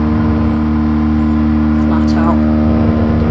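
A 1968 Fiat 500 F in Gran Turismo Sport runs flat out, its small engine holding a steady loud drone with a constant pitch throughout, a voice talking briefly over it.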